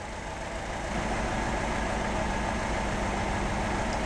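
A car engine idles steadily at low volume, a continuous even rumble with no revving. No one speaks over it.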